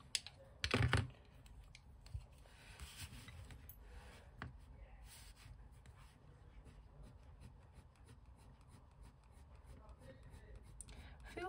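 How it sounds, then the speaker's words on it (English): Prismacolor coloured pencils drawing on a Stifflex paper pad, a faint, close scratchy rubbing with small taps and clicks that runs on steadily, with one louder knock near the start. "So now let's try some coloured pencil on there."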